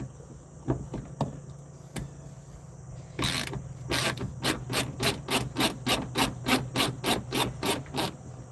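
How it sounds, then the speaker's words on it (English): A fine-tooth ratchet clicks through a run of quick, even strokes during truck body work, each pass a short rasping burst repeating steadily and close by, following a few isolated clicks and taps. "You gotta love a fine tooth ratchet."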